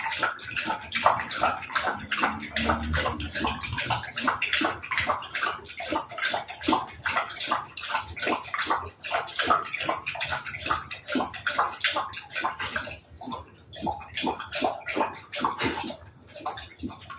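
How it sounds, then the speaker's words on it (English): A chow chow dog drinks with rapid rhythmic lapping that goes on steadily, wet splashy laps close by, with a faint steady tone in the background. "He's drinking water."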